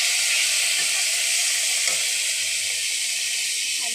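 Sizzling oil in a pan with tomatoes going in after fried ginger and cumin: a constant loud hiss up close, with a soft knock or two of a utensil and no voices.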